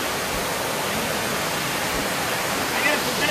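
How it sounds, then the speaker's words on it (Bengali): A broad, steady roar of water from a three-tiered waterfall in Araku Valley where people are bathing, a constant close wash of noise with faint brief sounds near the end. "জলের স্রোতটা একবার দেখুন, কত জোরে জোরে জলটা পড়ছে এবং তার আওয়াজ বা গর্জনটা একবার শুনুন"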